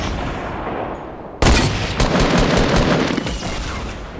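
Gunfire in the Fortnite video game, a sudden loud burst followed by rapid repeated shots and crackling reports that fill the rest of the moment, no talking.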